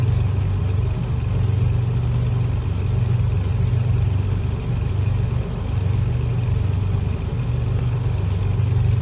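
Twin piston engines of a Beechcraft Baron 58 idling in Flight Simulator X, a steady low droning rumble with a continuous throb that holds constant throughout, close and fairly loud with no voices.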